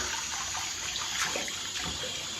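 Hot water runs steadily from a tap while a face is washed, a close, continuous rushing hiss with faint splashes, with no voices.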